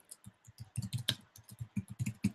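Quiet typing on a computer keyboard during work in task-planning software, a rapid irregular run of soft clicks and key taps, close and alone.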